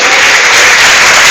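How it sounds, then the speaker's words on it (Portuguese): A church congregation applauds in a loud, dense wash of clapping that fills the whole moment, close and sustained with no pauses. "Aplauda ao Senhor."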